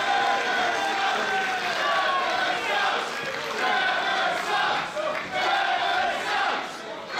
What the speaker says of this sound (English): The crowd here letting Trevor Lee know what they think about him.